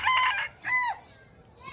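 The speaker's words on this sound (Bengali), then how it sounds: "সকালবেলা আমাদের ঘুমটা ভাঙতো মোরগের ডাকে" A rooster crows nearby in two loud bursts, the second shorter and rising, followed by quiet.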